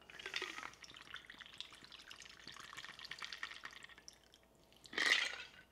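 Mango margarita pours into a salt-rimmed glass over ice, a soft continuous liquid stream ending in a louder splash of ice and drink.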